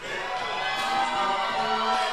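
A dense, sustained roar from a wrestling event crowd in Mount Airy, North Carolina cheering steadily, loud and continuous without breaks.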